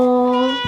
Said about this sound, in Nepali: यो चाहिँ हाम्रो बिरालो